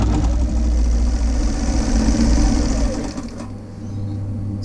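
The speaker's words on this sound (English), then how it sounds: "Needle down, 3 reverse stitches to start, following my 1 centimeter guideline." A sewing machine runs steadily while sewing reverse stitches on fabric, its loud, even mechanical whir holding for about three seconds before dropping to a quieter hum.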